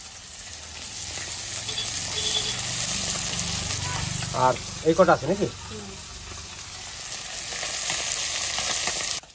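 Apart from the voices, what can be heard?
small fish frying in a pan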